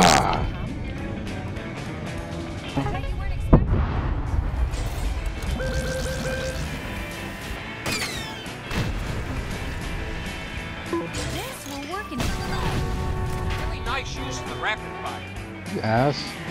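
Tracking rocket explosion in the racing game Cars 3: Driven to Win, a sharp loud smash near the start followed by continuous engine roar, crashes and game effects under excited commentary.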